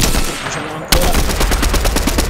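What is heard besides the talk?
gunfire in the video game Fortnite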